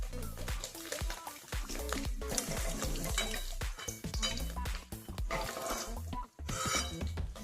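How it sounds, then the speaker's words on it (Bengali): Paneer pieces frying in hot oil for a Bengali paneer kabli dish, with steady sizzling, occasional stirring and clinks of a utensil against the pan, continuous and close throughout. "আমার পনির ভাজা তোমাদেরকে দেখালাম যে আমি দিলাম তেলের মধ্যে"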